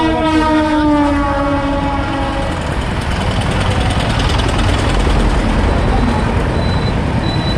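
A loud, steady rumble of a train passing close by a tribal market in Muradi, Purulia, with a brief horn-like tone sounding at the start before the clatter continues.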